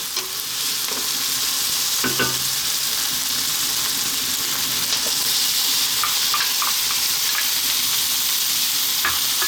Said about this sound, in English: We're now going to add our fresh tomatoes.